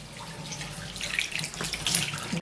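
Water runs steadily from a tap in a newly built house, a close, continuous splashing hiss with no voices.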